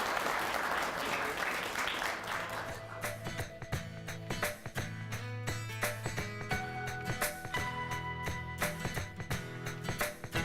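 Applause at an awards ceremony for a fair housing poster, essay and video contest: a broad wash of clapping at first, then sharp scattered claps over steady tonal sounds that carry on to the end.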